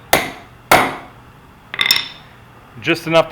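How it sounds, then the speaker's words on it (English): Two sharp metallic taps of a small hammer on a center punch ring out close by, each with a short ringing decay, followed by a softer clink and a brief voice. "You don't need a very large hammer, just enough to"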